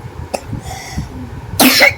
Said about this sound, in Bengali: কি কাশি হয়েছে